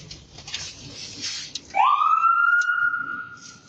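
Police siren wailing: a single rising tone sweeps up and holds steady, fairly clear at moderate distance, following a stretch of muffled background noise.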